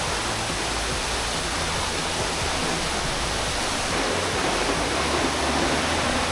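The waterfall at Tad Fane in southern Laos sends up a dense, continuous roar of falling water. The sound is close, loud and steady throughout, with no voices over it.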